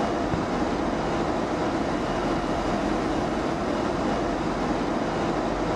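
A simulated Boeing 737-300 roars down the runway on its takeoff roll, a dense, steady rush of engine and wind noise filling the whole clip at constant loudness with no voices.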